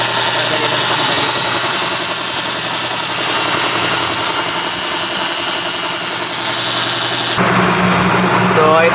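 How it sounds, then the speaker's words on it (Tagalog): A Subaru WRX 2.5 engine idles close by with the hood open, a loud steady rumble with a high whining squeal on top, changing character sharply near the end. "patayin na natin yung makina"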